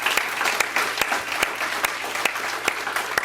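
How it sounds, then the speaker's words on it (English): At a community gathering, a roomful of people applauds the producers of a video, giving an even, sustained patter of clapping with a few sharp, distinct claps popping out at regular points above the crowd. "so give them a round of applause"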